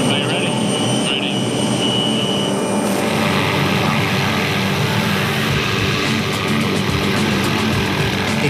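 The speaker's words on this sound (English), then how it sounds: "maneuver the chopper as close as he can." A helicopter flies close by with a loud, steady, continuous roar of rotor and engine, with voices heard over the noise.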